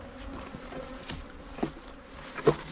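Honey bees humming steadily at an open hive with frames exposed while colonies are built up for almond pollination, a close, continuous drone with a few faint knocks and no talk.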